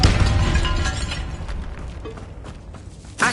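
Depulso repelling spell cast in the Hogwarts Legacy video game inside a tomb, a loud burst with crackling, shattering debris that fades over a few seconds before a short final thump.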